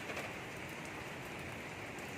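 Steady rain pours down outdoors at a mushroom-growing camp near Phu Bia, a dense, even hiss of drops hitting surfaces at a constant level with no voices.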